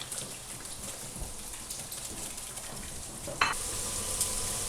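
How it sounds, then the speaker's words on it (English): A whisk works a mixture around a pan on a stovetop during a Mexican-style Thanksgiving cook, making a steady crackling, scraping sizzle that turns sharper and louder partway through, with no voices. "Try it with a whisk and really get it in there"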